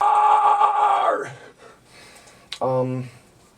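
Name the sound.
vocalist warming up metal scream with vibrato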